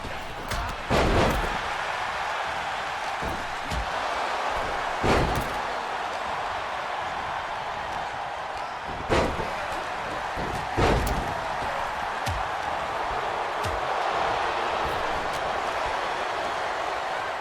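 Heavy body slams and impacts in the WWE 2K23 wrestling video game, a Marvel-themed Royal Rumble with created superstars, as Deadpool slams Mr. Sinister: several sharp thuds spaced across a steady crowd roar, each standing out loudly.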